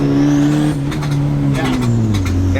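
A turbo Honda Civic engine, a cheap eBay turbo setup, revving hard and repeatedly hitting boost cut, loud and close, with the engine note stuttering and dropping as the cut kicks in.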